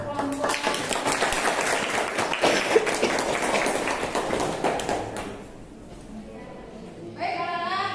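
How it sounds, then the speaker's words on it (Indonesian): A classroom audience applauds a student group after its math presentation, with dense, steady clapping that fades near the end, followed by a teacher speaking. "tepuk tangan untuk kelompok"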